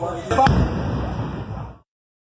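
An explosion at night during a robbery with hostages in the street: one sharp blast followed by a rumbling, fading roar that cuts off abruptly.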